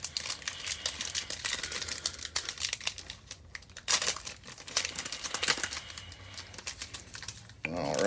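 Foil wrapper of a 2020 Prizm football card pack being torn and crinkled open close by, a run of quiet crackling rips and rustles with a sharper tear near the end.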